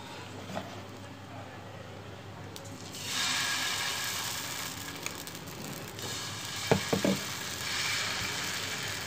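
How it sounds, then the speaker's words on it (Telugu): Onion rubbed across a lightly oiled dosa pan, a soft steady sizzle with scraping that brightens partway through, plus a few short clinks near the end. "పెంకు మీద లైట్గా నూనె వేసి ఉల్లిపాయ రాసుకుంటే బాగా వస్తుంది అనమాట దోశ"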